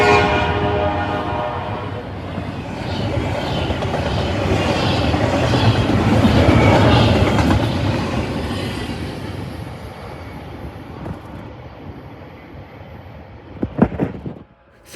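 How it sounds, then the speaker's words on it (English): A westbound Norfolk Southern intermodal freight train led by two -9 locomotives rumbles loudly past with steady wheel clatter, its horn sounding, then fades away, leaving a few faint clicks near the end. "The second train was a westbound Norfolk Southern Intermodal with 2 -9s."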